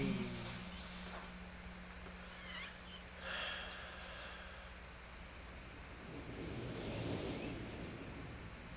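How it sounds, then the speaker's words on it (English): High-altitude wind in the video game Myst's Channelwood age: a continuous broadband rushing roar, steady and moderately loud, swelling slightly in gusts with no voices. "Really windy up here, apparently"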